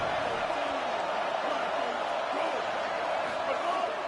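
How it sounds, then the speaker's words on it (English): A college football stadium crowd at a Georgia game roars on third down, a dense, steady wall of distant cheering and noise with no clear breaks. "This dog crowd is off the leash, and they are coming after them, bringing noise on 3rd down."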